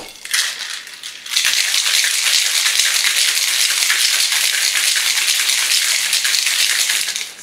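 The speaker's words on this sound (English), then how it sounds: "Shake this all up." Ice rattles inside a cocktail shaker as a Russian Bear cocktail with creme de cacao and milk is shaken, a loud, fast, continuous crunching clatter after a brief softer start, with no talk.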